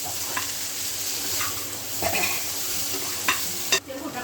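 Potatoes and peas frying in a pan crackle with a continuous sizzle while a utensil scrapes and stirs in several distinct strokes, close and fairly loud, with no talking.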